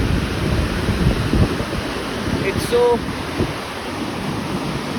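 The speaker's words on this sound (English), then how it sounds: "The waves are breaking." Evening surf at the Vizag beach breaks and washes ashore in a steady broadband roar with wind, while a voice speaks briefly and faint tonal sounds pass in the background.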